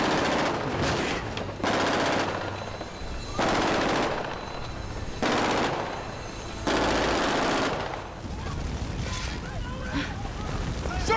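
Rapid automatic gunfire on a film set during a stunt scene for The Hunger Games: Mockingjay Part 2. Loud, dense bursts of shots repeat in several roughly one-second volleys, separated by brief gaps with background commotion and voices.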